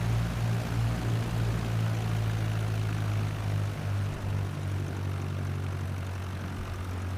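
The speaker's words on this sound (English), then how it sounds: "Let's position the plane for takeoff." A propeller airplane engine in Microsoft Flight Simulator drones steadily and loudly throughout with a constant low hum and no talk.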